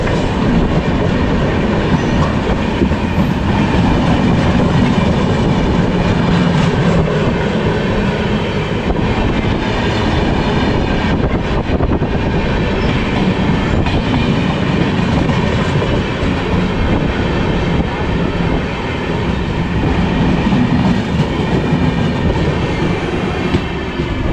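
Humsafar Express train running into Aluabari Road junction, a loud, unbroken rumble and rhythmic clickety-clack of wheels over track heard from on board throughout, with no voices.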